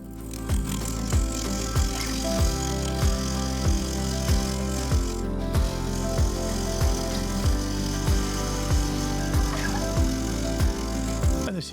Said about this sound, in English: I wound the speed up to around 800 RPM and set about getting it to round.